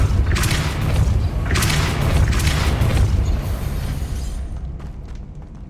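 Depulso spell cast in Hogwarts Legacy, a loud booming blast with a deep rumbling body and crackling bursts that fades out over several seconds.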